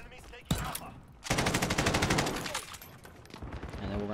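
Rapid automatic rifle fire from a Grau in Modern Warfare multiplayer rings out, with a sharp single shot followed by a sustained close burst of rattling gunfire, then quieter game ambience.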